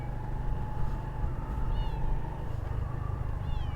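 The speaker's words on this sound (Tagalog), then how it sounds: "Maingay yung pusa namin." A cat meows a couple of times, faint and high-pitched, over a steady low background hum with no talking.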